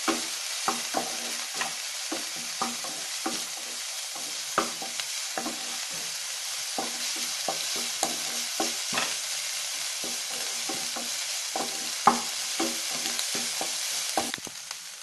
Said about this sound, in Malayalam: നല്ല മണം വരുന്നവരെ നന്നായിട്ട് വഴറ്റിയെടുക്കണം